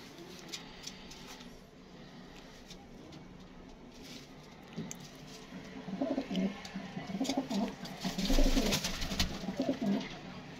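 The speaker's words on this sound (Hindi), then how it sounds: "ले जी दोस्तों ये कबूतर है" Pigeons coo in soft rolling calls that start faint and grow louder and more frequent toward the end, with light fluttering and rustling nearby.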